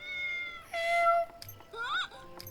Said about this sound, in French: Un chat? Sérieux?